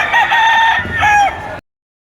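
A rooster crows loudly and close by at a chicken market in Padre Garcia, Batangas. It gives one drawn-out, two-part call that cuts off sharply.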